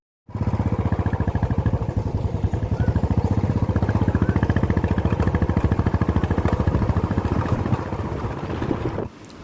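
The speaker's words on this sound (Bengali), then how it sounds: "তাই বরের বাইকে করে উঠে পড়েছি" A motorcycle carries a rider and passenger toward a riverside area, its engine thrumming in a fast, even pulsing rhythm up close, steady for most of the ride before easing off at the end.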